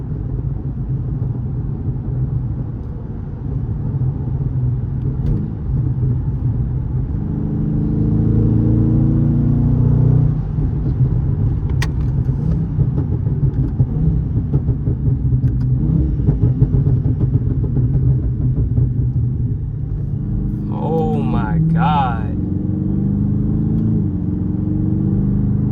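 Tuned Dodge Charger Scat Pack V8 rumbling loudly while coasting off the throttle, a deep continuous engine drone with rising and falling revs throughout, heard from inside the car.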